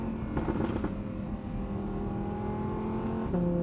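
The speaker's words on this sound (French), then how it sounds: "Déjà juste le bruit de ce moteur." An Audi R8 V10 Spider engine idles with a deep, steady hum, a few quick revs near the start and another lift at the end.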